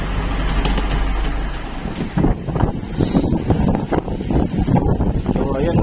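Strong wind buffets the microphone aboard a small fishing boat at sea, a heavy low roar with gusty thumps and rumbling, continuous and close.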